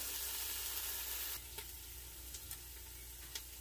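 Onion sizzles steadily in a frying pan for soup, a soft, continuous hiss with a faint clink or two partway through and no talking.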